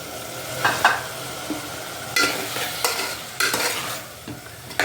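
Half a kilo of tomatoes tumbles into a pan of half-cooked onions, then a spoon stirs and scrapes through the sizzling mix in uneven bursts, close and fairly loud, with no talking.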